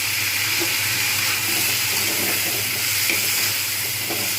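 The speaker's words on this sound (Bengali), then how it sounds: "টমেটোটা একটু ভেজে নেবে ভালো করে" Tomato frying in a pan with potatoes and long beans, a dense, steady hiss of sizzling oil with faint stirring underneath, loud and unbroken throughout.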